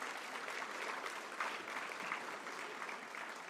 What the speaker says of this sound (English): Could we give Rich another round of applause